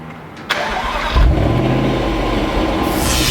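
Jaguar XKR, an older XK model, starts up outdoors on a windy day: a sharp crank and catch, then the engine revs briefly and settles into a loud, steady idle, close by with wind noise and no talk.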